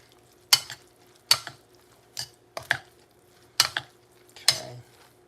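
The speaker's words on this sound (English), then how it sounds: "Mix it around." Salad being tossed with a couple of tablespoons of dressing in a bowl: six separate wet, clattering mixing strokes at roughly even intervals, close and moderately loud over a faint steady background hum.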